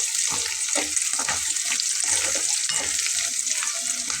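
A spice masala for eggs fries in a pan under constant stirring, a close, even hiss of frying with repeated light scrapes and knocks of the spatula running through it, and no talking.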